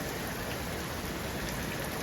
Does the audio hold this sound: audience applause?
no